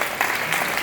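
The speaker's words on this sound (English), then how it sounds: "You guys can clap as much as you want." Wedding guests applaud during a best man's toast at the New York Public Library, a steady wash of clapping from a crowd that holds at an even level for a moment without pause.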